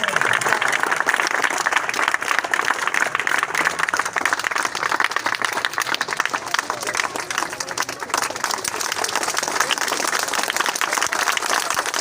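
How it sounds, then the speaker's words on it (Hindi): Schoolboys standing and applauding at a Kashmir Day program at a boys' school in Rawat, Islamabad, a loud, dense, continuous round of clapping that fills the room for the whole stretch, with voices mixed in. "खड़े होकर तालियां बजाएंगे"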